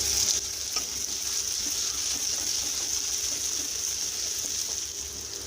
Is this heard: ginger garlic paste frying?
yes